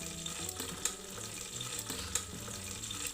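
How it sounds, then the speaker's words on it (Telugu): Potato pieces and chopped green chillies fry in a pan for a palav, a dense continuous sizzle with a couple of brief louder crackles, fairly quiet and with no voices. "పచ్చిమిరపకాయ ముక్కలతో బంగాళదుంప ముక్కలను కూడా వేసుకుని బాగా వేగనివ్వాలి."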